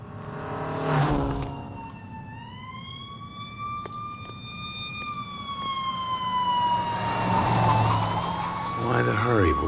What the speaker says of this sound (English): I think I hear sirens.